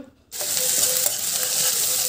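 Chopped onions frying in a pan for egg keema give off a loud, continuous sizzle that bursts in after a brief quiet moment, with faint stirring scrapes underneath and no talking.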